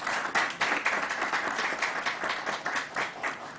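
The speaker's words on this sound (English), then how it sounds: "So let's give them a round of applause." Steady applause from an audience at a press briefing, dense overlapping claps sustained at even loudness with a few swells, no voices over it.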